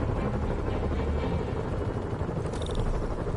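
Helicopters fly overhead in the Spider-Man PS4 video game, a steady low rotor rumble and whir that fills the whole moment with broadband noise, with a brief higher mechanical whine rising near the end.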